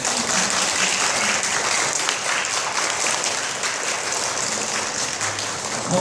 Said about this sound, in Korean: 박수 한번 좀 보내주십시오